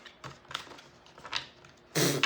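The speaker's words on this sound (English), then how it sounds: "Shuffle one more time." A deck of oracle cards is shuffled close by: soft, quick papery riffles and taps, faint and uneven, ending in a louder burst of card noise.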